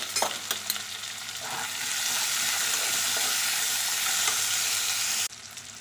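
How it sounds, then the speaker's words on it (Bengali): Potato pieces and tomatoes fry in a pan with salt, opening with a few sharp stirring scrapes, then settling into a steady loud sizzle that cuts off near the end. "আলু আর টমেটো কিছুক্ষণ নেড়ে নিয়েছি"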